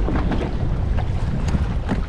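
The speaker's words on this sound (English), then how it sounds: "Lots of wind, not too much current, but this wind and swell is just so okay." Strong wind and swell buffet a Fishpro fishing boat drifting over a wreck far offshore, a steady loud roar of wind noise with water slapping, no voices.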